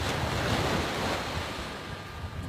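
Sea waves wash onto a beach in a steady, loud roar of surf, mixed with gusty wind buffeting the microphone, with no break over a couple of seconds.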